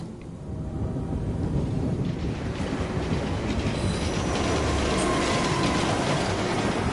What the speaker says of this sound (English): Nearly got run over by a train.